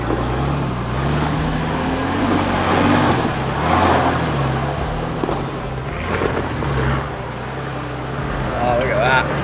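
An old Nissan Patrol off-road vehicle climbs a steep track, its engine a steady low drone with revving swells throughout, while people talk over it.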